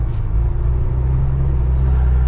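A vehicle climbs the Serra do Tombador mountain road near Jacobina, Bahia, in reduced fifth gear, moving slowly. Its engine gives a steady, close, continuous low rumble with no voices over it.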